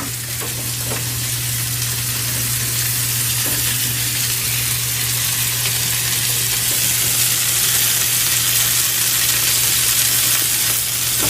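Chicken sautéing in a hot pan, a continuous bright sizzle and crackle held steady throughout, with a constant low hum underneath and no voices.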